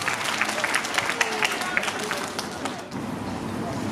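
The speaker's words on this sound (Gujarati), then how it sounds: "એમના વક્તવ્ય માટે જોરદાર તાળીઓ થવી જોઈએ" At a school parent meeting held on Guru Purnima, an audience breaks into dense, sustained applause for a speaker, the clapping filling the hall before thinning out, with crowd murmur and voices mixed in.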